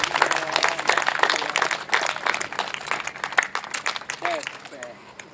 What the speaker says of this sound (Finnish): Raikuvaa aplodia